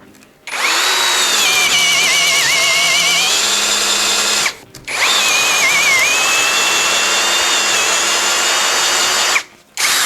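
A brushless WORCRAFT CHD-S20LiBAB cordless drill runs at first speed in two long bursts of about four seconds each, a loud whirring hum with a short pause between.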